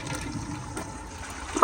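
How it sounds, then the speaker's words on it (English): A 2014 AquaSource Henshaw toilet flushing, with a steady rush and trickle of water filling the bowl, close and moderately loud, ending in a sharper burst. "But here is another flush."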